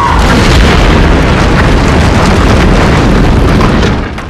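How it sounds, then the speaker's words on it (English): A dense, continuous rumble and crash of many rocks tumbling down onto a performer in a staged television scene, loud and steady throughout before easing slightly at the end, with no talking. "It really doesn't hurt that much to have that many rocks fall on you."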